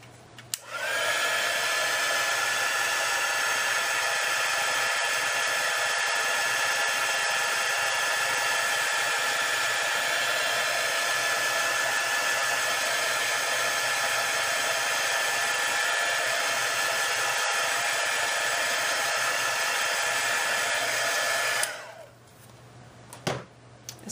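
A hair dryer blows steadily and loudly at close range while drying a mixed media card, a constant whooshing roar that runs for about twenty seconds before it switches off.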